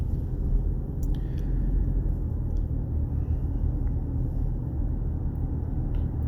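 Inside a Toyota Sienna hybrid minivan, a steady low road rumble and muted drivetrain hum carry through smooth acceleration, with faint rattles and no voices.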